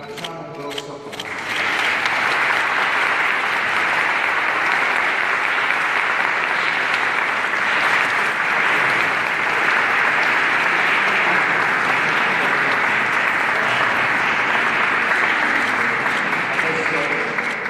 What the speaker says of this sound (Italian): Facciamo un grosso applauso.